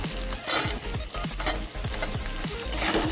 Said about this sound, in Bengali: খুব ভালো মতো ভেজে নিচ্ছি